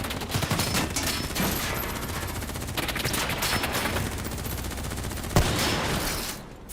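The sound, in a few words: gunfire in video game Call of Duty: Black Ops 3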